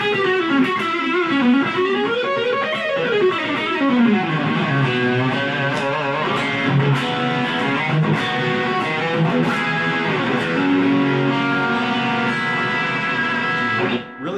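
An electric guitar played through a small portable amp under $100, gain turned all the way up with treble rolled back, gives a continuous, thick, distorted tone with shifting notes and sustained chords, loud and steady throughout.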